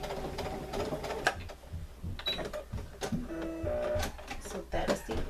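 A home sewing machine stitches a small fabric bow for a dress, its motor whirring in short mechanical bursts with clicks and clatters, fairly close, while a voice talks over parts of it.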